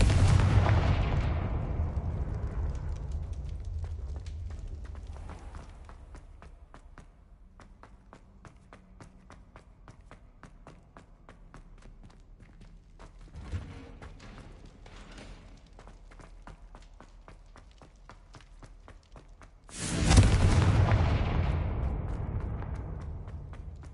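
A Confringo blasting spell from Hogwarts Legacy erupts in a loud booming burst, followed by a long stretch of quieter crackling and footsteps, then a second heavy blast near the end.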